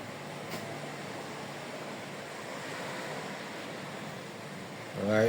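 Sea waves wash along the ocean front in a steady, broad rushing roar, with wind noise mixed in and a louder swell near the end.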